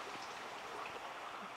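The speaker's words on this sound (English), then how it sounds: "It is raining." Steady rain falls on a Southern California day, a dense, even patter of drops hitting surfaces nearby, continuous and fairly soft with no voices.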